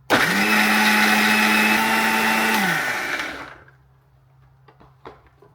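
A kitchen blender whirs loudly for about three seconds, grinding Greek-style yogurt for kadhi, then winds down and stops, leaving quiet room tone with a few faint clicks.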